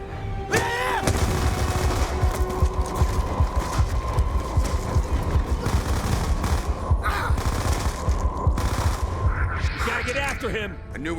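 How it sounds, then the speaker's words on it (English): Steady automatic gunfire and scattered shots in the Call of Duty Black Ops 2 video game, rattling bursts under game voices and music. "Gunshots came from inside."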